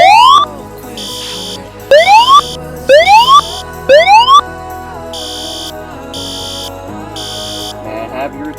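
A fire alarm sounds in a Roblox hotel game: loud rising electronic whoops, four of them, alternating with pulsed high-pitched tones that keep repeating through the whole stretch.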